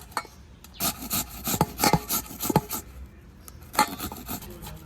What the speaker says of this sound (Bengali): আপনারা ঠিক এইভাবে কাঁঠালের বীজগুলোকে এরকমভাবে ঘষে নেবেন।